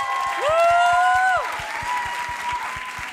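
Audience at a public speaking event applauding in a steady wash of clapping, with a whistle rising over it and music carrying a regular beat underneath.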